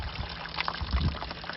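Dirty coolant water trickles and splashes steadily as it drains from the engine block of a 1986 Ford F250 4x4 after a flush, a close, continuous pouring sound with no talk.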